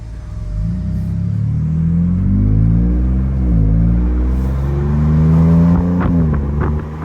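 A 2021-2022 Ford Bronco fitted with a catback exhaust drives along a road, its deep, steady engine rumble rising and falling through gear changes and throttle swells, close and loud with no talking.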